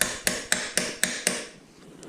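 A hammer taps a socket onto a rearset bolt on a 2005 Suzuki SV650 motorcycle, giving six sharp, evenly spaced metallic strikes about a quarter second apart, loud and close, followed by a short quiet ring-out.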